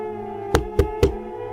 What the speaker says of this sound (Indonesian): ia mendengar seseorang mengetuk pintunya